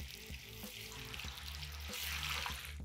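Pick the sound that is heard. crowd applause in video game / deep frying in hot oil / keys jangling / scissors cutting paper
deep frying in hot oil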